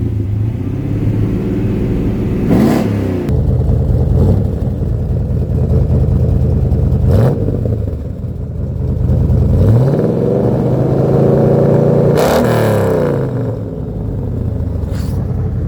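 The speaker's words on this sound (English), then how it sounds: "Oh, when you let Maddie drive the hot rod" Hot rod engine idling loud and close with a steady rumble, punctuated by several sharp revs that rise and fall at intervals, no voices over it.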